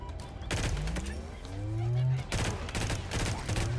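Bursts of rapid automatic gunfire from a Halo Infinite match, loud close volleys with brief gaps between them, mixed with rising whooshing weapon and effect tones.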